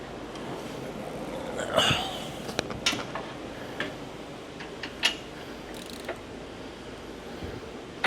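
A brand-new ratchet wrench tightens the bolts on a Badlands winch fitted to a Jeep 392 bumper, giving sparse, sharp metallic clicks spaced irregularly over a low, steady background.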